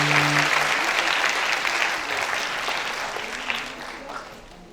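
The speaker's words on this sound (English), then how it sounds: "Can we hear a louder applause" Audience applause at a school diocesan felicitation day award ceremony, a broad sustained clapping crowd that slowly fades over several seconds, with a faint tone at the very start.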